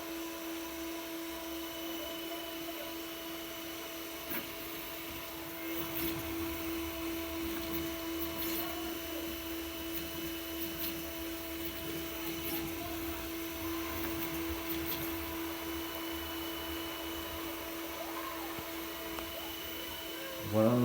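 A 3D printer runs steadily while fabricating a small connector support accessory, its motors producing a continuous whirring hum with faint tonal whines and occasional light clicks throughout, heard alone without talk.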